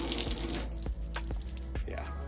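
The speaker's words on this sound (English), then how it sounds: "Water's sheeting off, it's not beating." Water sheets off the wet exterior wall of an RV, a steady hissing wash of spray and runoff with a few brief splashy surges, fairly quiet and continuous.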